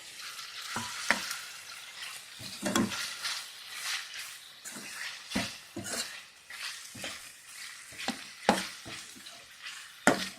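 Mutton keema sizzles and fries in a pan while a spoon or spatula scrapes and stirs it in irregular bursts, close and clear, with no voices.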